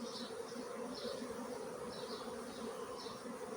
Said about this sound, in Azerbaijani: İndi arı götürelim.